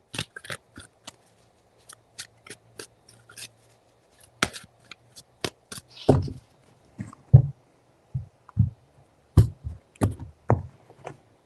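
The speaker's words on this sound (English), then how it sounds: "Three shuffles." Tarot cards being shuffled up close, a run of crisp taps and riffling bursts that grows denser and louder toward the end, with no talking.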